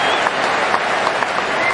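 A cricket crowd at an England match applauds a bowler, steady clapping and cheering close and full throughout, with a commentator's voice over it.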